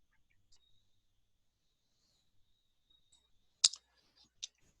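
A computer mouse button gives a sharp click near the four-second mark and a second softer click shortly after, with faint small ticks before them in an otherwise quiet room.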